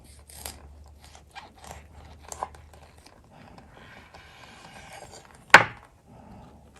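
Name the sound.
knife cutting a Vietnamese fresh spring roll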